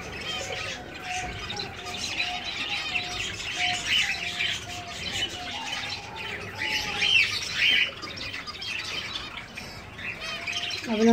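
Finches in a breeding colony chirp and tweet continuously, with many overlapping calls and repeated short notes, close and fairly loud, plus occasional squawks and wing flutters.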